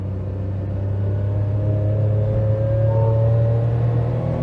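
A Daihatsu Sirion's small engine drones and revs steadily under load climbing a hill in second gear, a continuous strained hum that rises slightly in pitch as it climbs.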